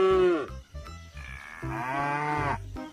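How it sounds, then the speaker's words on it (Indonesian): A calf moos in a few drawn-out, wavering calls with short breaks between them, loud and close with no other sound around it. "Wow, di dalamnya ini ternyata ada anak sapi."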